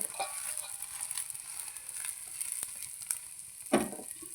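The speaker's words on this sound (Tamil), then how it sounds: "ஒரு 5 நிமிஷம் அப்படியே அந்த வெங்காயம் கேரட்டு எல்லாம் கொஞ்சம் அப்படியே வேகட்டும்" Onions and carrots cook in oil in a pan, giving a quiet, steady sizzle with a few soft utensil scrapes and one sharper clatter near the end.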